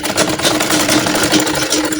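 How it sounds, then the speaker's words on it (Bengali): A sewing machine stitching a baby frock, its motor running in a steady fast rhythmic whir, close and continuous for the whole stretch. "নিয়ে এখান থেকে একটা সেলাই দিব"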